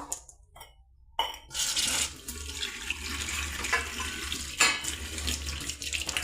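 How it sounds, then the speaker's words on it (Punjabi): Tap water pours over a steel faucet to rinse off cleaning wash. It begins quietly, then surges into a steady, close splashing gush that continues to the end. "ਵਾਸ਼ ਪਾਣੀ ਨਾਲ ਧੋਵਾਂਗੇ ਟੂਟੀ ਛੱਡ ਕੇ"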